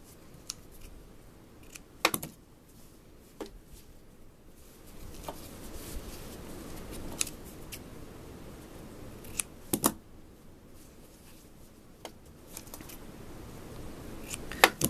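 Scissors snip through fabric in scattered crisp cuts, close and fairly quiet, with pauses between bursts of cutting.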